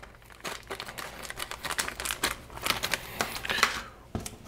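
Plastic packaging around bumper repair mesh crinkles and is cut open, a run of close, crisp rustles and snips with short pauses.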